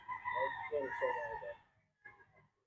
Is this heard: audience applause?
no